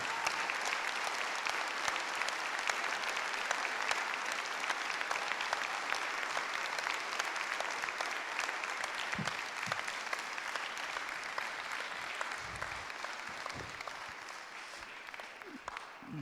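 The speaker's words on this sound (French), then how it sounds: "Je vous demande de les applaudir." A municipal council audience applauds newly elected deputy mayors in a long, sustained burst of dense clapping that stays even throughout and fades only slightly near the end.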